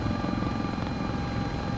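A helicopter in Microsoft Flight Simulator 2024 flies low near the ground with its gear up, giving a steady, loud rotor and turbine roar that continues without a break.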